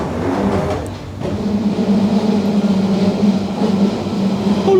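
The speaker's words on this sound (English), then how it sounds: "The 1962 stock train for test, there's several of them actually" A London Underground 1962 stock test train passes close by, a loud steady rumble and rolling drone that swells after a brief dip and holds, with no talk.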